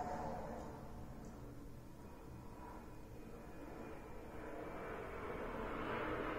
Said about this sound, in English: there are army planes flying over my head